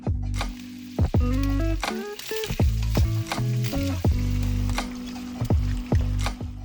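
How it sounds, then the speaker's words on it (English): Bacon frying in hot olive oil in a heavy pan, a loud continuous sizzle and crackle that stays close throughout, with stirring noises and steady tonal sounds layered over it. "get a nice heavy pan out, heat up some olive oil, and add in your bacon"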